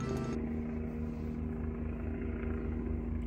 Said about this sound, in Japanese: ヘリだ